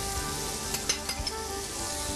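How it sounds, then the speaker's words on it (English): Bacon and onions fry in a pan with a steady close sizzle, broken by a few brief stirring scrapes and clicks in the middle. "Once your bacon crisps up, you're gonna add your onions in."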